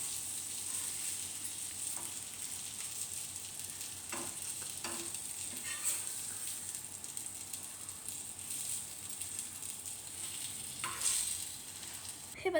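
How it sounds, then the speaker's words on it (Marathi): Brinjal slices fry in a pan of hot oil after the lid comes off, a steady crackling sizzle broken by repeated scraping strokes of a spatula as the pieces are turned, fairly close and without talk. "आपण झाकण काढलं आहे आणि आता परत ह्यांना परतून घेऊया।"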